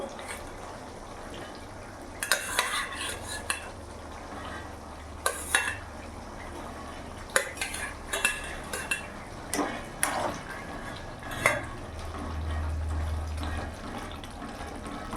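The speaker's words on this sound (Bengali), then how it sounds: "এবার ভেজে রাখা মাছগুলো আমি দিয়ে দেবো" Fried catla fish pieces go into a simmering curry with green peas, bringing a run of clinking, splashing and stirring knocks over a steady bubbling simmer, with no talking.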